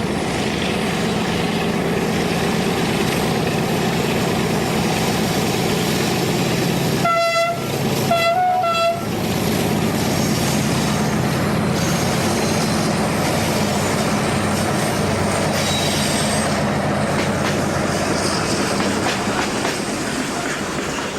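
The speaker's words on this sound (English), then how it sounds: "will require the combined tractive effort of these three 1900 locos working in multiple" Three Portuguese class 1900 diesel locomotives working in multiple haul a heavy coal train on the main line, a loud sustained engine roar with rolling wagons, and a brief two-part horn toot partway through.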